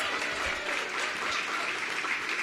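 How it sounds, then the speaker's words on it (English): Audience applauding at the Busboys and Poets grand opening in Anacostia, steady dense clapping that holds at an even level throughout with no talk over it. "Give them a big round of applause."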